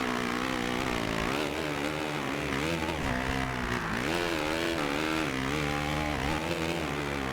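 A KTM 250F motocross bike engine in the video game MXGP2 screams continuously, its high revving pitch rising and falling with throttle and gear changes, loud and close throughout.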